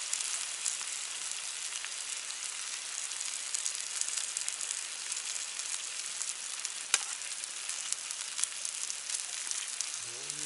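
Food sizzles steadily while being stir-fried in a pan over a campfire at a summer campsite, a dense, continuous crackling hiss that stays close and even, with a few sharper pops and no talking.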